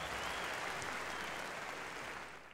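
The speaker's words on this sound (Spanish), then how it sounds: "un aplauso para Miguel Maroni, hombre." An audience at a Colombian stand-up comedy show applauds, a dense burst of clapping from the crowd that holds steady and then fades away at the end, with no voices over it.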